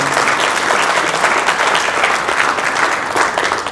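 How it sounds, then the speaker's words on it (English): Loud, sustained audience applause at a leadership conference in Dallas honouring a Consul General, steady dense clapping throughout with no pause or speech over it. "if you give another round of applause to your Counsel General here"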